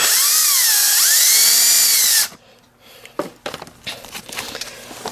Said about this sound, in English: Take a drill with a 1/8 inch drill bit